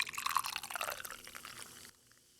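Ginger ale poured heavily over ice, a fizzy splashing liquid stream running steadily for nearly two seconds before stopping abruptly, close and clear with no talk.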